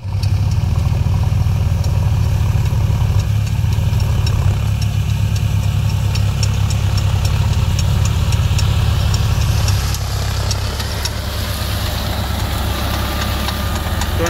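A tractor engine runs steadily in a field, a deep, even chugging rumble heard up close, holding constant with a slight shift in tone toward the end.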